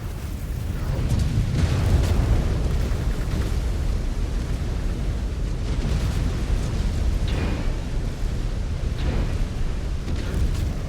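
A missile explosion tears apart a mech during heavy city fighting in MechWarrior 5: Clans, a loud, continuous roaring rumble with crackling bursts that runs for about ten seconds without letting up.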